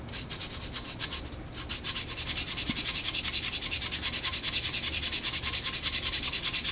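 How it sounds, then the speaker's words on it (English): Sanding excess putty off Sintra plastic by hand makes a steady, rhythmic rasping scrub, close and fairly quiet, with quick repeated strokes that grow more even and regular. "start to remove the excess putty"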